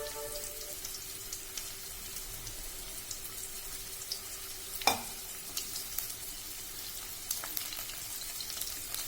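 Onions, curry leaves and dried red chillies frying in a pan for coconut rice, a steady soft sizzle with occasional stirring scrapes and one sharper clatter midway, no voices.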